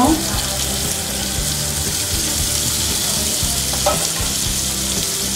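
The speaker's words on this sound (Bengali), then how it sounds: "এখন আমি নামিয়ে নিব আমি বাটার দিয়ে দিব" Butter sizzles in a hot pan while making bread pizza, a steady close frying hiss with occasional faint low clinks of cookware.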